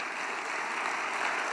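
Applause at a political event rally, a steady wash of clapping from a large crowd, heard at some distance and moderately quiet throughout.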